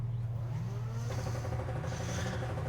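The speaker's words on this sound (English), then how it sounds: "Revving up for this turn 1." A Formula 4 race car engine in the sim racing game iRacing drones steadily and loud, its low note climbing slightly as it revs toward a turn, with a faint higher whine layered above.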